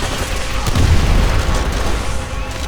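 A loud, deep grenade explosion in Call of Duty: World at War booms with a low-frequency roll that swells and slowly fades.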